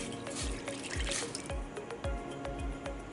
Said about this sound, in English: To my pot, I'm just going to go in with the water